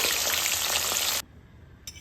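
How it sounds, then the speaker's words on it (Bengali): Small tengra fish frying in a pan, a dense hissing sizzle for about a second before it suddenly drops away to near quiet, with a brief faint burst at the end. "মাছগুলো ভাজা হয়ে গেছে, এখন আমরা মাছগুলো তুলে রাখবো। এভাবে আমরা সব মাছগুলোকে ভেজে নেব।"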